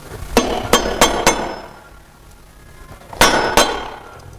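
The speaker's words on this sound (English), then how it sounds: "hit it by hammer." A hammer taps a piston into an engine cylinder through a piston ring compressor. Four sharp metallic knocks come in quick succession, then a pause, then two more close, loud hits.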